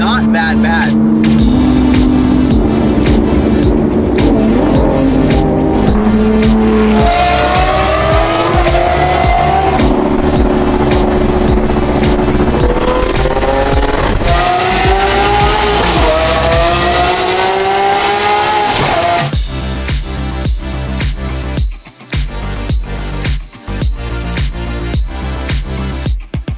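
Supercars, among them an STO, an 812, and an SVJ, roar loudly throughout as engines rev, rise through gears with drops in pitch between shifts, and accelerate hard, with tire noise, sustained and close.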